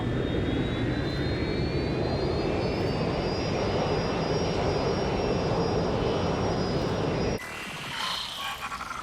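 Aircraft flying in the video game Watch Dogs Legion, a steady, loud jet engine roar with a slowly rising whine that cuts off abruptly near the end into a different, quieter texture.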